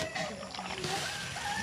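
Coconut milk splashes as it is poured into a cooking pot at a hillside nipa hut, a short wet pouring sound heard close up with faint talk nearby.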